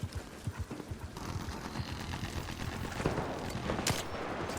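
Bursts of video game gunfire, rapid cracking shots clustered at the start and scattered later, set over a busy bed of game noise with hoof-like clatter.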